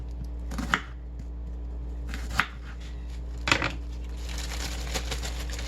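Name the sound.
chopping a yellow onion with a knife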